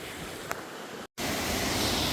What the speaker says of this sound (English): Wow, you can really hear the water raging.